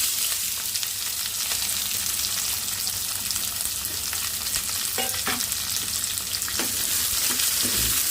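Onions sizzle steadily in a pan with curry leaves, a close and constant hiss of frying with a few sharp scrapes and clinks of stirring near the end.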